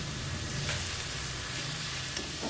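Onions sautéing in a pan give a steady, even sizzle with faint stirring scrapes, a continuous frying hiss at moderate level with no talk.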